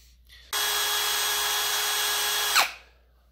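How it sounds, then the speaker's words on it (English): A Ryobi P251 cordless brushless hammer drill whirs steadily at high speed for about two seconds, close and loud, then winds down abruptly. "Ryobi P251 cordless, brushless hammer drill."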